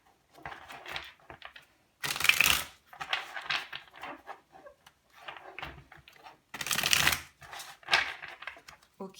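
A deck of tarot cards is shuffled close up, with bursts of riffling and flapping card noise repeated in several separate rounds, separated by brief pauses, with no speech.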